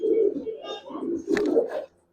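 A female giribaz pigeon coos steadily and close, a low rolling call running for about two seconds before stopping.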